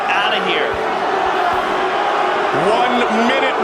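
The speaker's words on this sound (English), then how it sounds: "The crowd's booing." A UFC arena crowd in the final round of a Liddell vs. Jackson event booing, a broad sustained roar of voices filling the space, with a commentator talking over it and whoops rising near the end.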